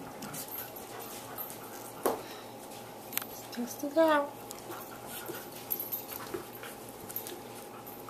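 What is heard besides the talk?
puppies whimpering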